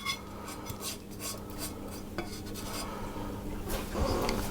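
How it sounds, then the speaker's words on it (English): A spoon stirs a wet ginger snap mixture around a bowl for Swedish pepparkakor, giving a steady scraping and clinking against the bowl, close and moderately loud, with no voices. "And give it another good stir around."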